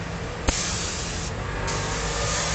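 A Devilbiss spray gun sprays paint in a steady close hiss, with a sharp click at the start of the trigger pull and a continuous airy rush that shifts slightly in tone partway through.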